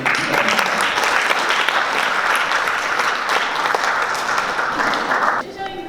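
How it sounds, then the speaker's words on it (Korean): An audience applauds loudly and continuously, dense clapping that fades out near the end. "큰 박수로 윤희숙 교수님을 맞이해주십니다"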